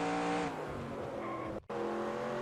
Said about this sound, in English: Start to get back on the throttle as you hit turn 4, and then let her rip as you exit the corner